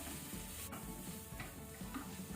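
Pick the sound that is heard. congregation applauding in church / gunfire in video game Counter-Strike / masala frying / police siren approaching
masala frying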